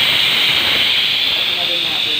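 A pot of Filipino nilaga soup at a rolling boil, giving off a loud, continuous steam hiss that stays steady from start to end, close by, with no talking.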